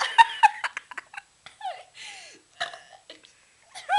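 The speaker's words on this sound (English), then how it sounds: "Damn, I already have to burp." A run of close, loud burps from a person, several short gurgling belches and longer drawn-out ones spread unevenly, with giggling and laughter between them.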